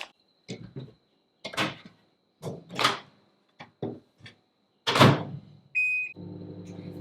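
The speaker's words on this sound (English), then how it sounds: "I'm just going to use the microwave" A series of clunks and thuds of a microwave oven door, then a short beep and the steady low hum of the microwave starting to run.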